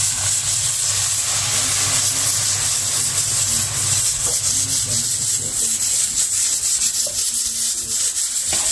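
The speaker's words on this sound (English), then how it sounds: "You can just stir" Spoon stirring coconut juice into a curry chickpea and potato salad in a bowl, a steady soft rubbing and scraping that runs throughout under a constant background hiss.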